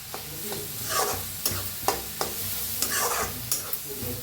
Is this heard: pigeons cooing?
no